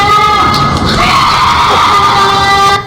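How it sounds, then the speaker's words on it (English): A recorded cougar mating call, a loud, continuous, shrill shriek resembling a woman's scream, held with wavering pitch for nearly three seconds and heard close and alone. "This horrifying sound, according to its uploader, is a cougar mating call"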